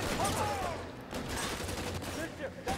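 Gunfire in the video game L.A. Noire, a rapid burst of shots followed by scattered further bangs, mid-loud, with voices talking over it.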